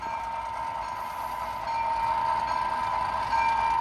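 A model AC4400 diesel locomotive on a model railroad layout drones steadily with a strong, constant engine hum, growing slightly louder, and no voices.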